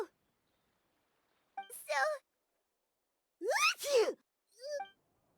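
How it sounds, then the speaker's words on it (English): A character in the video game Genshin Impact sneezes after sniffing flowers by a port, a few short vocal bursts with pauses between them, the loudest near the middle, clear with nothing behind. "I didn't even know characters could sneeze in this game."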